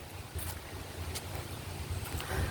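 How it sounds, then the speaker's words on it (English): Strong wind blows outdoors near a chicken coop on a homestead in fall, a steady roaring rush with low rumbling buffets against the microphone and no talking. "It's really windy out here."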